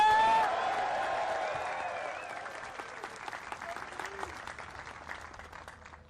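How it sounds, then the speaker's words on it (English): Applause from a crowd of spectators for the players at the 2023 PDGA Disc Golf World Championships, loud at first with dense clapping that gradually thins and fades, a few voices and a faint call mixed in. "One more round of applause for our players, folks."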